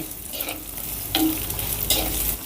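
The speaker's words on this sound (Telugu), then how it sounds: "ఇప్పుడు ఈ ఉల్లిపాయల్ని పూర్తిగా బ్రౌన్ కలర్ కాకుండా లైట్ గోల్డెన్ కలర్ వచ్చేంత వరకు ఫ్రై చేసుకుందాం" Sliced onions frying in a pan until light golden for an aloo pepper fry, with soft steady sizzling and occasional louder stirring scrapes, close and without talk.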